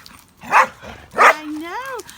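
Dogs out on a village road bark excitedly after a car passes, two sharp close barks followed by a rising, whining yelp.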